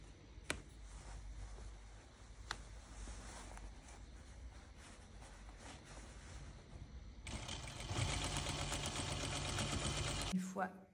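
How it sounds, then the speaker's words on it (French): A sewing machine stitches a trouser waistband with elastic, its rapid steady whirr rising louder near the end as someone talks through it. "vous tirez un petit peu l'élastique pendant que vous allez piquer votre ceinture"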